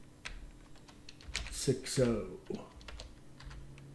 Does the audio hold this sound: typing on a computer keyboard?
yes